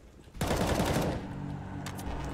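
A burst of gunfire erupts suddenly in the video game CS:GO, loud and dense, then trails off into a lingering rumble with a couple of fainter shots near the end.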